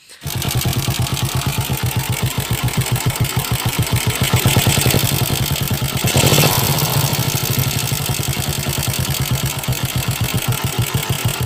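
A repaired TMX125 motorcycle engine with a 200cc conversion runs steadily at idle close by, its even, rapid thumping pulse continuous with a slight rev swell midway, and no talk over it.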